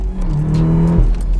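A manual Volkswagen Golf R hot hatch with over 400 bhp revs up hard and climbs in pitch for about a second, then drops abruptly as the gear changes, close and loud.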